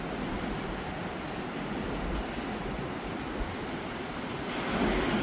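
Steady roar of ocean surf washing onto the shore, broad and continuous with a slight swell near the end, no voices.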